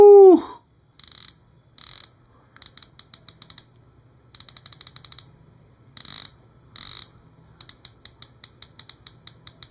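Close ratcheting clicks from the rotating bezel of a Christopher Ward C60 Trident titanium dive watch, coming in quick bursts and runs of crisp individual clicks with short pauses between turns, no voices.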